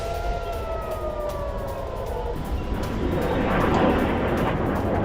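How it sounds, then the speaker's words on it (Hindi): Air raid sirens wail in Tel Aviv during an Iranian missile attack, a rising and falling tone that swells louder toward the end over a broad rushing noise. "एक तरफ तेल अवीव में रेड अलर्ट जारी किया गया है, सायरन बज रहे हैं यहां पर"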